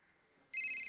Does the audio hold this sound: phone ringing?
yes